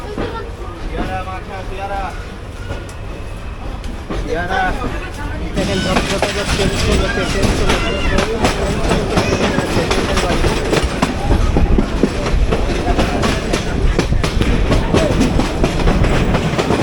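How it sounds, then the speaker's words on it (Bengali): Rangpur Express passenger train rolling along the rails, a loud continuous rumble with rhythmic clickety-clack that grows heavier partway through, heard from inside the carriage. "ঝকঝক করতে করতে ট্রেন তার নিজ গতিতে চলে যাচ্ছিল"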